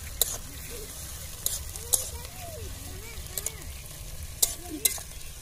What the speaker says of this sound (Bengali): পেঁয়াজ আমি দু মিনিট ভালো করে ভেজে নিয়েছি।